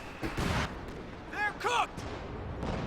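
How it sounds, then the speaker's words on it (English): A Priest self-propelled artillery gun bombards in Company of Heroes 2, with several deep booming impacts and whistling shells coming in, heard under someone talking. "going for the priest right now, bombarding the hell out of this"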